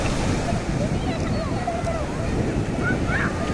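Sea waves wash steadily at Puri beach in a dense, continuous roar. Heavy wind buffets the microphone, and faint distant voices drift in now and then.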